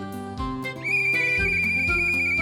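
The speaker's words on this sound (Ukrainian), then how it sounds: "Знову свисток." Whistle blowing in a children's cartoon about helper cars: a long, steady, shrill tone held over a bouncy musical background, loud and close.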